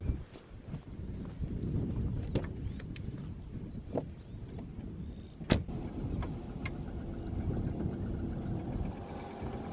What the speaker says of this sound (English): get in the car and drive up and see what happens along the roads